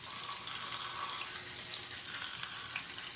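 Food boiling in a pot while dinner cooks, a steady, even bubbling hiss that carries on without a break for a few seconds, with no voices.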